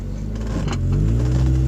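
Mazda Miata with a new aftermarket exhaust accelerating in first gear onto a main road, a steady low engine drone that swells slightly louder partway through, heard from inside the car.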